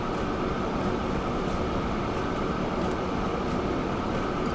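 Trains run along the line in Transport Fever, giving a constant, loud rolling rumble of rail traffic with a steady roar and no voices over it.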